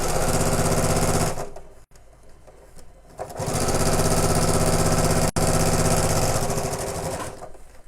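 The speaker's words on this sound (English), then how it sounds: "and we'll sew around the edge" Domestic sewing machine running loud and close as it stitches around the edge of a fabric bag, two sustained bursts of motor whirr separated by a short pause.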